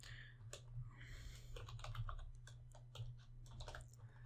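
Quiet, close typing on a computer keyboard while editing a Python file, a run of irregular soft key clicks over a low steady hum.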